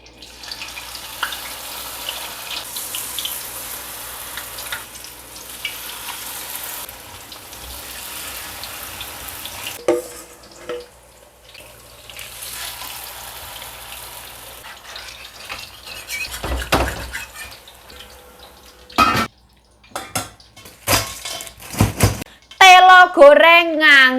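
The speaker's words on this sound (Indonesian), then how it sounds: "Aku mau goreng bakwan ya" Bakwan vegetable fritters fry in a pan, giving a steady, close sizzle for about ten seconds, followed by quieter stretches with clattering bursts and a few sharp bangs toward the end.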